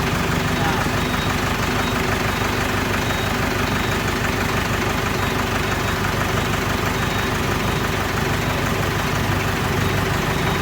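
A Massey Ferguson MF455 tractor's 4,100 cc, 100-horsepower diesel engine runs steadily at idle, a loud constant low rumble with throbbing vibration throughout, close up and unchanging.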